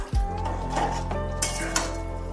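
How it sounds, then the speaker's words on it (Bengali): A spoon stirring chicken polao in a pot, with soft scraping and a couple of light metallic clinks against the vessel, steady and close with a faint sizzle underneath. "আবার একটু নাড়িয়ে চাড়িয়ে নিতে হবে।"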